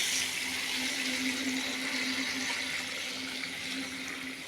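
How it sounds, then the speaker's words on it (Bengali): Lukewarm water poured into frying masala for katla fish curry, a steady rushing, bubbling wash of liquid that runs continuously at an even level. "তেল ছেড়ে গেলেই মশলাটা কষানো হয়ে গেছে, এবার জলটা দিয়ে দিচ্ছি।"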